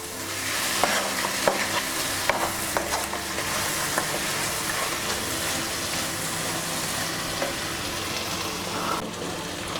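A pan of masala-coated chicken for palak chicken is stirred after salt goes in, with a steady close sizzle of frying and repeated scraping strokes throughout, no voices.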